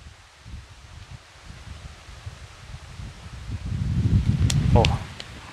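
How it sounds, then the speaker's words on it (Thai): Strong wind blowing at an outdoor fishing spot as rain approaches, buffeting the microphone with a low, rumbling roar and leafy rustling that swells louder toward the end. "ลมแรงครับท่านผู้ชมตอนนี้เหมือนจะมีฝนมานะครับ"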